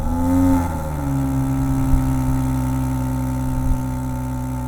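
A BMW 3 Series with the M Performance Pack runs with a loud, steady engine note, swelling with a short rev early on and then holding a droning tone with small surges.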